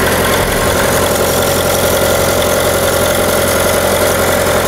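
Car engine idling after a cold start with the hood open, a loud, steady, close rumbling drone with even vibration and no pauses.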